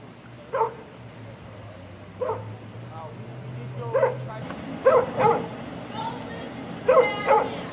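A small dog yips and barks in short sharp bursts, several in a row, with a low hum underneath that stops midway.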